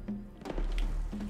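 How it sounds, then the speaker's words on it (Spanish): A drum being struck in the video game Palia, one illuminated drum among several, gives a short low thunk at the start, with another soft tap near the end over faint game music. "Lo que tenemos que hacer es ir tocando los tambores que están iluminados"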